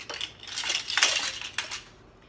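A large knife mashing soft roasted tomatoes against a surface, giving several close, light metallic taps and squishy scrapes in an uneven rhythm.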